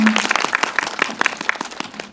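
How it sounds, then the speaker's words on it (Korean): An audience claps together at a Korean film event, a dense burst of applause with a brief voice at the start, fairly loud and continuous for a couple of seconds. "여러분들 박수 부탁드립니다"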